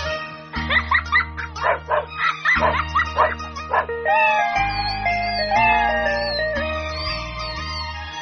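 Dog barking in a children's song: a rapid series of yapping barks over a bouncy musical accompaniment, followed by sung melodic lines with the music continuing.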